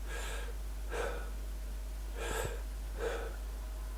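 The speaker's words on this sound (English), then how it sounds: "I'm breathing out for 2 or 3 seconds" Four exaggerated, slow, breathy exhales come at roughly even intervals over a low steady hum, each a soft airy rush lasting under half a second, faint and close.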